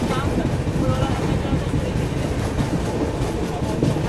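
The Rajasthan Humsafar Express rolling out near a platform and gathering speed, a dense low rumble with steady rhythmic clatter of wheels on rails, loud and continuous throughout.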